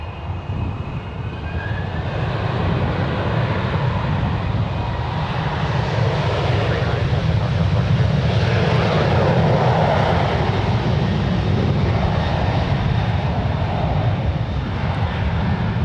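An airliner takes off from San Francisco International Airport as a steady, loud, broadband engine roar that swells and holds for the whole span, with no talk over it.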